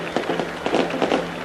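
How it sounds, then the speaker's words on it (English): Fireworks bursting at Odsal Stadium during a 1999 Super League rugby league match, a string of rough crackling pops over a broad crowd roar. "As the fireworks get off and the confetti blows"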